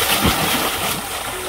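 Water splashes onto a person playing in a stream, a brief loud splatter with sloshing, mixed with excited voices.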